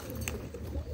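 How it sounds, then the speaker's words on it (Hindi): Soft, low cooing of pigeons close by, including a red Chinese pigeon hen, a brief murmuring call with faint rustling in the background. "ये देखें, लाल चीनी कबूतरी।"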